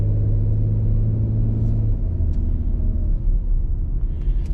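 A car drives toward a boat ramp with a low engine rumble and a steady tone that drops away after a couple of seconds, leaving rougher road rumble under faint cabin sounds.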